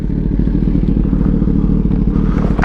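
A 2021 Kawasaki ZX10R sport motorcycle engine idles in neutral, a loud, close, steady rumble with slight clattering and no talk.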